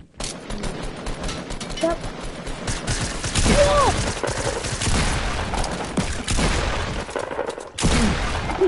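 Automatic gunfire from a PS4 shooter game crackles in repeated bursts throughout, loud and dense, with a player's voice briefly audible over the shooting.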